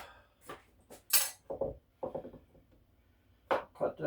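A kitchen knife cuts five blue-cheese-stuffed olives on a cutting board for a quick salad, giving a handful of sharp, separate taps and clicks with short silent gaps, close and fairly quiet.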